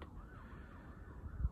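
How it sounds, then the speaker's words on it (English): Distant emergency sirens wail faintly in the background, a steady oscillating tone with low rumbling noise underneath and no voices. "As we hear sirens in the background"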